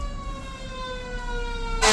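Fire engine sirens wail close by in a steady wavering tone over low truck rumble, with a sudden loud burst of noise in the final moments as the vehicles pass.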